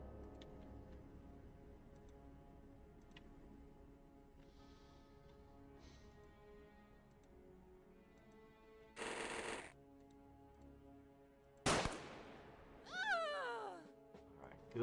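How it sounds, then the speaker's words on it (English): Shotgun blasts in the video game XCOM: two loud, sharp bursts stand out over a steady musical game background, the second followed by a ringing, whooshing tail. "Shotgun coming in."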